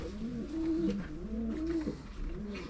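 Racing pigeon in a loft cooing in repeated rolling phrases, three clear bursts close to the mic over a steady low background hum.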